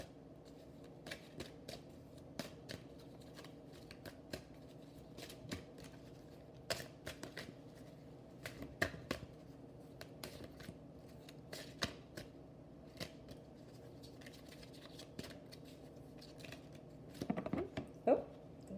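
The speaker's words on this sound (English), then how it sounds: "And I'm going to pull 4 cards." Tarot cards handled at close range for a reading, with quiet riffling and snapping flicks scattered through a soft background and a brief burst of shuffling near the end.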